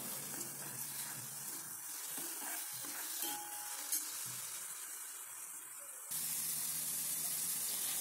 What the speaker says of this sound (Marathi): आता यामध्ये थोडासा कढीपत्ता ॲड करायचा आहे।